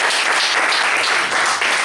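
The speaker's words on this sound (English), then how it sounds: "Round of applause for doing that." An audience at a talk gives a round of applause, with steady, loud, dense clapping that continues evenly throughout.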